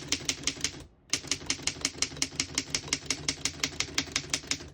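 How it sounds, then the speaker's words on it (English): A 1920 Underwood No.5 antique desktop typewriter types in rapid, even keystrokes, each a sharp close clack, with one short pause early on before the steady rhythm resumes. "We're going to keep it on single and finish typing."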